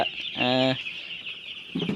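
Broiler chickens on a poultry farm give a couple of short, close clucks separated by a brief pause, with no talking over them.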